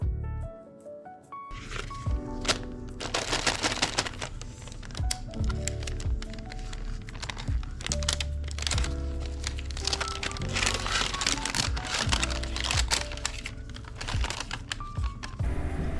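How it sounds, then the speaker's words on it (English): Tissue paper from a nail kit crinkling and rustling up close, continuous crackly handling with scattered sharp crackles and faint background music. "I love the sound of the tissue paper they include in these kits."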